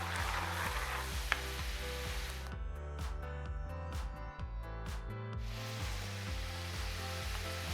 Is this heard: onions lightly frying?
yes